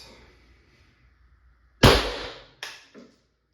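Two sharp, loud pneumatic cracks from a First Strike FSC less-lethal launcher, the second about three quarters of a second after the first, following a few seconds of near silence with a faint low hum.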